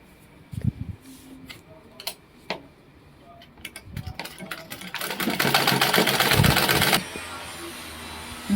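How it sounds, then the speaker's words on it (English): A sewing machine stitches baby-sized pieces of a Celestial Church of Christ female four-corners garment, starting with a few short clicking bursts, then running steadily for about two seconds before stopping. "Then put this together and sew."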